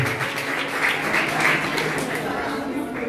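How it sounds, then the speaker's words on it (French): A school audience applauds at a student philosophy debate, giving moderate, fairly distant clapping that runs evenly throughout, with voices mixed into the sound. "Applaudissez pour Madame Libon"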